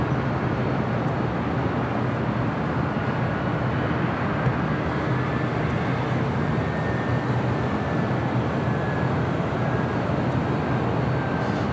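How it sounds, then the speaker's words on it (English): A 33-year-old Delta Boeing 767-300ER jet at LAX gives off a loud, steady, broadband roar with a faint high whine running through it, continuous for the whole stretch and with no voices. "That is Delta Airlines Flight 972. We'll be heading to JFK in this 33-year-old 767-300ER."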